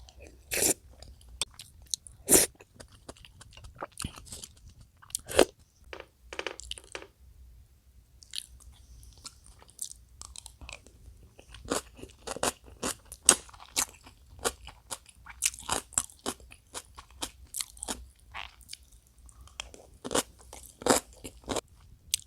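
Close-up chewing and crunching while someone eats spicy beef gukbap, a Korean beef and rice soup; sharp, irregular bites and crunches come in clusters with quiet gaps between them, and no one speaks.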